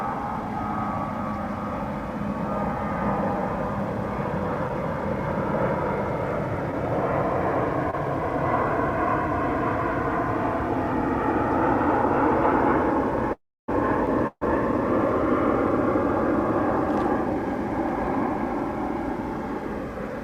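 An airliner bound for Las Vegas at DFW Airport, a steady, broad engine roar that swells slightly and holds throughout, heard from a distance with no voices and two brief dropouts midway.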